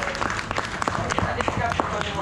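Scattered hand claps from a small group, brief and uneven, mixed in with people talking.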